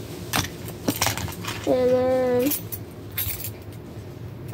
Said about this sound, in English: a Nissan Altima key that ain't cut, and some house keys